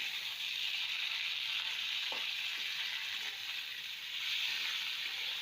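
Chopped tomato hitting golden-brown fried onions in a pan for Bengali aloo bhorta, a steady close sizzling hiss with a few faint stirring clicks and no talk.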